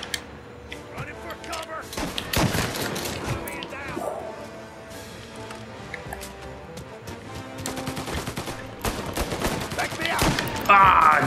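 Rapid gunfire in the video game Mafia: Definitive Edition crackles in repeated bursts throughout, loud and busy, with shouting voices mixed in.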